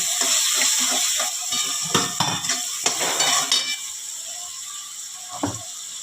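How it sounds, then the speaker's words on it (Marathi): Onion fries in a pan while a spatula scrapes and stirs it, sizzling close with clustered scraping strokes that thin out toward the end. "त्याच्यामध्ये कांदा टाकलेला आहे आता लालसर रंग येईपर्यंत भाजायचा"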